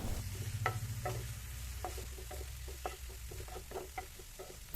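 Onions and green chillies frying in a pan for Kerala-style egg curry give a low steady sizzle, with light scattered clicks and scrapes of stirring throughout, close and alone.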